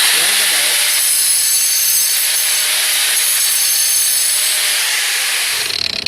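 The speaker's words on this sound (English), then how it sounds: "For little cuts, I just bring my grinder." A small angle grinder cuts through floor tile in one loud, harsh, continuous grind that lasts several seconds and then begins to wind down, very close and alone with no voices.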